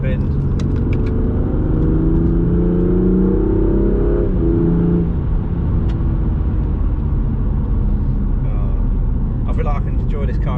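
A BMW M2 Competition engine, heard from the cabin, climbs in pitch for several seconds, then shifts and drops as the driver downshifts manually into a bend, with a loud, continuous rumble and brief talking near the end.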